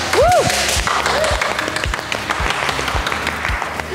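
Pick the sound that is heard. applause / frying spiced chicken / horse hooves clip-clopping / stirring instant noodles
applause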